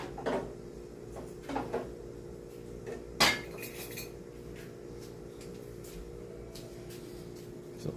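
Cutlery and dishes clatter in a home kitchen while a fork is taken out for baking, with a few sharp metallic clinks, one louder clank midway and quiet room noise between.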